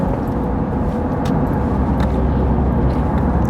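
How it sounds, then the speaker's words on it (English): Big trucks drive in on a road in St Vincent after Hurricane Beryl, a loud, close, continuous engine rumble with heavy low-end drone and faint rattles, no voices. "Big trucks coming in."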